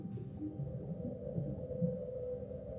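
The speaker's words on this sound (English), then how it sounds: "This is the voice of a mysterious whale known as 52." A mysterious whale known as 52 calls at 52 hertz, a low droning, moaning tone that holds steady for about three seconds with a murky rumble beneath, distant and muffled as if underwater, with no one speaking.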